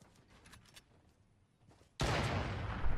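A sniper rifle shot in the Fortnite video game: quiet scattered rustles, then an abrupt loud crack at about two seconds that rolls into a sustained, broad blast and echo until the end.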